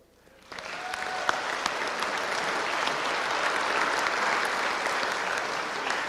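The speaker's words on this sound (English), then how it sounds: "he wanted his own applause" An audience at a North Dakota 164th Infantry World War II victory celebration breaks into applause, starting abruptly after brief quiet and continuing as a loud, steady wash of clapping.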